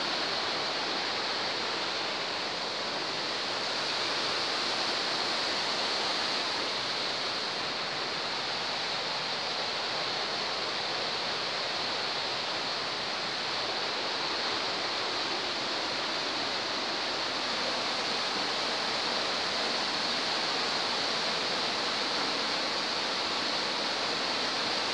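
The waterfall at Buchanty Spout roars in a dense, unbroken rush of falling water, loud and steady from start to finish, with no voices.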